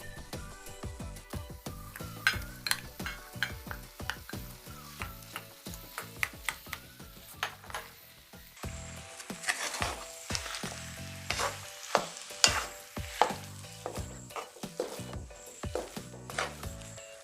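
Potato pieces frying in hot oil in a pan with turmeric, a steady sizzle broken by repeated scraping and clattering stirs, close and fairly loud, with no voices.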